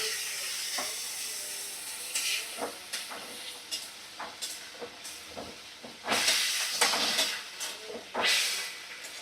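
Water poured into hot spiced oil with eggs and potatoes for egg biryani bursts into a loud, close hiss and steam that surges and fades in waves.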